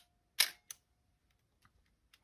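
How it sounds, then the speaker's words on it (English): Shutter release of an Olympus OM-4 film camera, heard up close as one crisp mechanical click with a short second snap right after, then faint small handling ticks in near silence. "shutter button"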